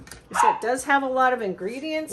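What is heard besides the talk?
dogs barking while playing in the background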